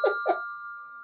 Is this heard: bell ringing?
yes